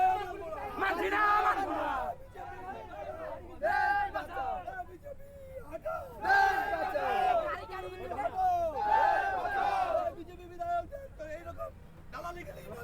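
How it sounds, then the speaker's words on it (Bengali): A street crowd blocking a road chants 'go back' slogans in loud, rhythmic unison, repeated phrases rising and falling in waves with shouted voices throughout. "রীতিমতো রাস্তা আটকে গো ব্যাক স্লোগান দেওয়া হয়"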